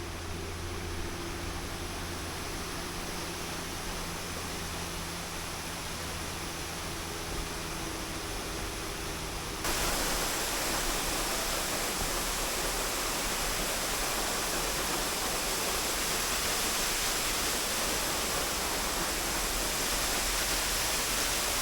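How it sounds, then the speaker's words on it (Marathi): Waterfall at Malshej Ghat roars as a continuous broadband rush, steady and enveloping, becoming noticeably louder and brighter partway through, with no voices. "चला तर आता आपण वर जाऊ आणि या धबधब्याचा आनंद घेऊ"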